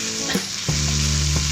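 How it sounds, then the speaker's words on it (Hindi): Qeema masala frying in a handi, a loud close sizzle with scraping stirs and a sustained low hum, brief and continuous with no talking. "मसाला काफ़ी भून गया है"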